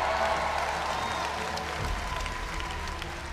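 A church audience gives steady, moderately quiet applause that continues evenly throughout, blending into a soft crowd murmur, with no clear speech.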